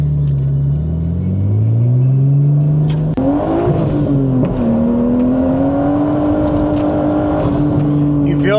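Nissan Skyline R34 GTT engine pulling hard on a drive, its drone climbing steadily in pitch with a brief break at a gear change before rising again, loud and close from inside the car.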